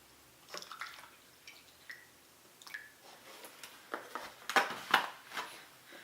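Water being poured into a cup while making a bread starter with flour at home, heard as faint splashes and drips building to a brief, louder pour near the end in a quiet room.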